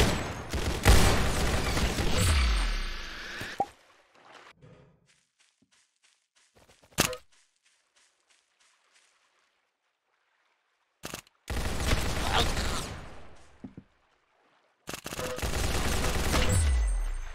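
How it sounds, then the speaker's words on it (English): Gunfire in Roblox Arsenal, loud bursts of rapid shots in three separate stretches with quiet gaps and a single sharp crack between them. "Where are you shooting?"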